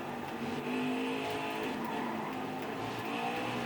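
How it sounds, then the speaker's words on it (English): Worn tires squealing and sliding on a race car in the NASCAR Heat 5 video game, a steady skidding hiss over a constant engine drone, heard alone without talk. "Man, these tires are not gripping up at all"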